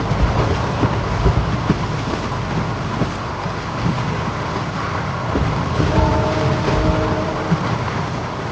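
A passenger train running from Rameswaram to Madurai rumbles steadily with rhythmic clickety-clack from the wheels on the rails, loud and continuous throughout.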